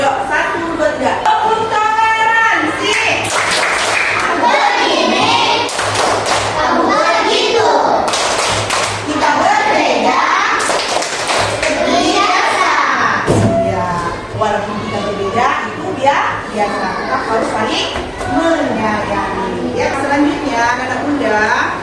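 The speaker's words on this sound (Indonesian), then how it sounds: "Yuk, Bunda ada namanya tepuk toleransi" A class of fourth-grade schoolchildren performs a rhythmic clapping chant, voices shouting words together in time with loud, sharp bursts of group claps that repeat in quick patterns, led by a teacher.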